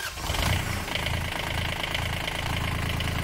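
Small Kubota 719 cc diesel engine idling steadily nearby, a continuous low rumbling drone with a regular knocking pulse, loud and unbroken throughout with no talking.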